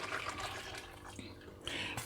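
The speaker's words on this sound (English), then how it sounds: "I'm going to just pour this infused water in here" Lemon-infused water pours into a cooking pot, a steady splashing stream that swells and fades over about two seconds, close and moderately loud with no talk.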